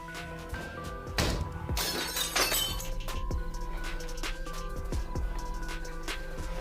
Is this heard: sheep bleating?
no